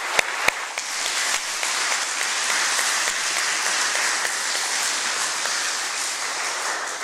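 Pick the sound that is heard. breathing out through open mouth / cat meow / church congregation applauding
church congregation applauding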